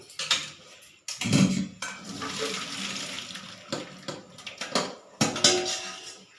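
A metal wok is set on a kitchen stove for frying potatoes in white oil, with sharp clanks of cookware and splashing, running water in a busy home kitchen.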